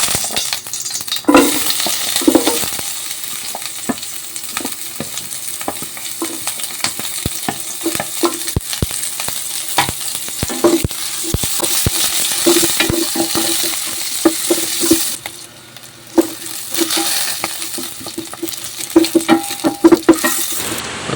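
Onions sautéing and sizzling in a pan after pork for pork steak has been browned, with a steady close frying hiss broken by frequent spatula stirs and clinks against the pan throughout, no talking.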